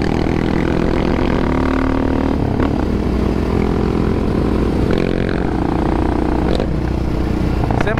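An ATV quad bike engine runs loud and steady up close at Piedra Blanca, with a continuous droning rumble and occasional shifts in pitch.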